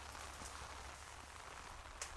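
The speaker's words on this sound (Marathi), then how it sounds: "एकदम छोटा कमी स्पीडमध्ये पाऊस आहे" Light, slow rain falls on a sugarcane field in rural India, a steady soft patter of drops that stays faint and even, with one slightly sharper drop near the end.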